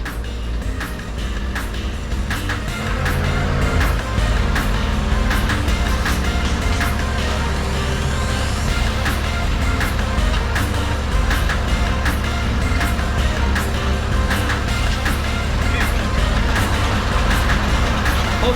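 Ford 8600 tractor under restoration, its engine running steadily and loud nearby with a deep continuous rumble and frequent clattering ticks throughout.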